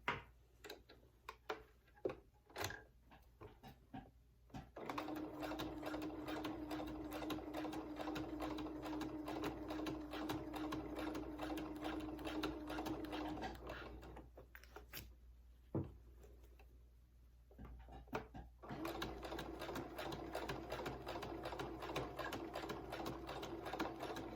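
A sewing machine stitches a zipper into a dress in long stretches of rapid, even stitching, pausing briefly between runs, with occasional clicks and handling sounds; close and fairly quiet.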